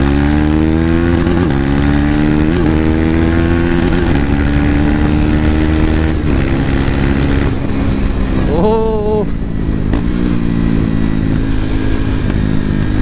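A KTM RC390 motorcycle runs without its exhaust, close and very loud, with a harsh, throbbing engine note. It revs repeatedly, with one sharp rise and fall near the end.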